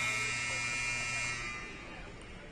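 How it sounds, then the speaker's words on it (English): A flat, droning game-end buzzer tone sounds steadily at a box lacrosse game, then fades off as the clip ends, with faint crowd noise beneath. "And that will be it as the buzzer sounds."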